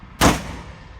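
A single sharp shot from a Glock G31 pistol fitted with a CAA Micro Conversion Kit, loud and close, with a brief decaying echo afterward.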